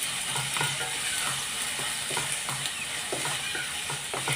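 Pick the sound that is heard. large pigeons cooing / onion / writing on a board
onion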